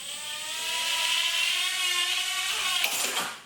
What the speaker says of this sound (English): trying to fly this quadcopter